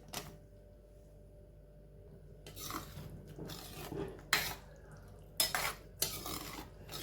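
Drained pasta stirred into white sauce in a pan, quiet at first, then bursts of wet scraping and clinking of a spoon against the pan, close and irregular.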